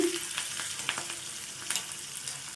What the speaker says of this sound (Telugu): మంచి క్రిస్పీగా వచ్చేంత వరకు పోపుని అయితే వేయించుకోవాలండి